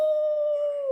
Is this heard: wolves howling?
yes